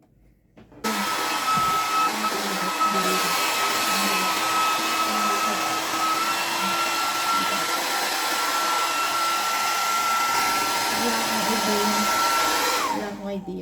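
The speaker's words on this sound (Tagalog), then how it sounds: "Yung blower." An electric blower runs continuously at close range as it is aimed at a frosty window to defrost it, giving a steady, loud whooshing roar with a faint high whine, switched on early and off just before the end.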